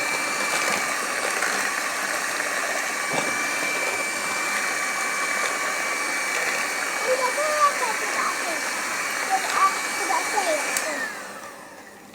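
An electric hand mixer beats cake batter ingredients in a home kitchen. It gives a steady, close whirring drone for most of the clip, voices chatter faintly beneath it, and it cuts off near the end.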